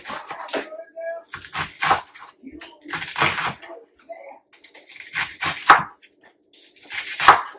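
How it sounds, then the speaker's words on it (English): A knife chopping food on a cutting board in quick bursts of sharp, close knocks, separated by short pauses. "Once you cut up top, and then just chop it up."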